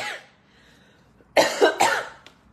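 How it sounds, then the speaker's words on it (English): A person coughs in two or three quick, close bursts after a short quiet stretch, loud and near, with no talking. "That's my first cough today"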